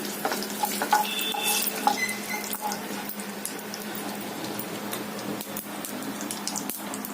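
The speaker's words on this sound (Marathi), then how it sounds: "परतून घेऊया." Cluster beans (gavar) stir-fry in a wok of hot oil tempered with mustard seeds and cumin, making a steady close sizzle with scattered crackles and occasional scrapes and taps of a spoon on the pan.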